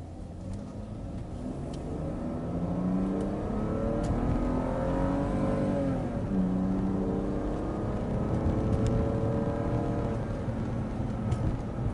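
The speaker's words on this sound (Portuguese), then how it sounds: "Deixa eu botar meu cinto agora que eu vou fazer um top speed para ver se vai vibrar." A 2002 BMW 320i with a vibration fault accelerates toward top speed, heard from inside as the engine note climbs through rising sweeping tones, shifts, and climbs again over steady road rumble.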